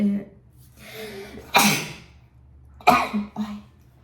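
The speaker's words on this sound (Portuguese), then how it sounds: "Ai, adoro espirrar." A sharp, close sneeze bursts out, followed by a second quick burst and a few short vocal sounds.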